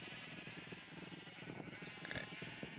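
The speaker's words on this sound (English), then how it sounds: "Uncertain of how many sheep are in this pen at the moment." Sheep bleating in a pen in Minecraft, several overlapping bleats at close range over a steady background hum, with no talking.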